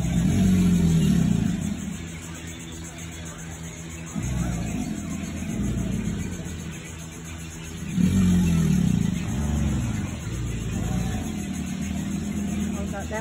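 Alligators bellowing in St. Augustine, Florida: deep, low rumbling roars that swell and fade in long rolling waves, loud and steady throughout with a person talking over them.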